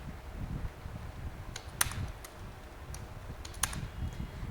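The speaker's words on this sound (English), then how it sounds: "so what I will do is I will again type this" Sparse keystrokes on a computer keyboard, a few separate clicks over a steady low hum, with no talk.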